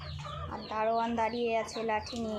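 Large hens on a Bangladeshi poultry farm squabble and fight, giving loud, harsh clucks and squawks in rapid bursts close by, while a person talks over the commotion.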